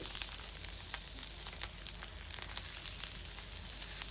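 Spiced eggplant slices fry in soybean oil in a thick pan, giving a quiet, even sizzle with scattered light crackles and no speech.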